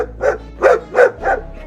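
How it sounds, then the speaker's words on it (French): A Bull Terrier barks four times in a quick, evenly spaced run, each bark short, loud and close, with nothing else heard around them. "Bull Terrier."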